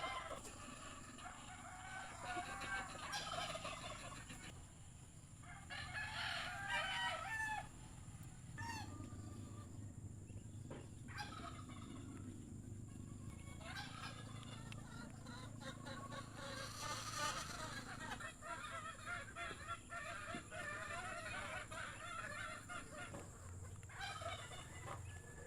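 Gamefowl chickens in a cording area cluck, call and crow repeatedly during a morning wet feeding, with roosters crowing at a distance over steady farmyard background noise.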